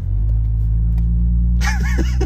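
A Toyota Tundra pickup floored at full throttle, a loud steady low engine rumble filling the clip, with faint tire or whine accents rising near the end.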